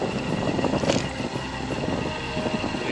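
A motorcycle engine drones past nearby, a broadband rumble that swells slightly and then holds steady for a few seconds with no talk over it.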